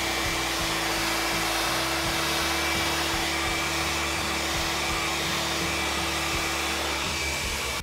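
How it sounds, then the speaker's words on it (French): Babyliss rotating hot air brush drying hair: a steady, loud whooshing blower with a constant motor whine and faint rhythmic low rumbling from the rotating brush, continuous throughout. "une babyliss intuitive et qui est une brosse soufflante tournante"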